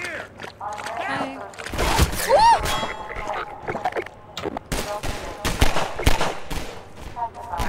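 Gunfire in the video game Half-Life 2, with bursts of shots and impact sounds scattered through the scene under frequent talking and game voices.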